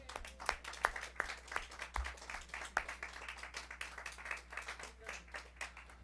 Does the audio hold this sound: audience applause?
yes